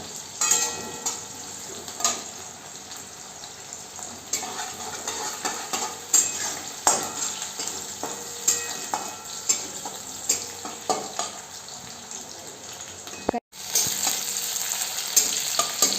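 Green chillies and cumin sizzle and fry in a pan while being stirred, a steady crackling hiss with repeated scraping strokes of a spoon, briefly cut off near the end before resuming.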